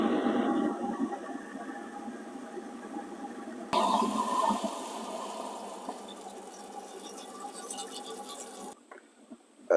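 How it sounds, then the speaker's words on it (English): A steady, rushing roar of water at a rolling boil in a pot for a crab boil, loud and close, with a sudden shift in tone partway through before it cuts off near the end. "We've got the water boiling in our pot. Nice roaring boil."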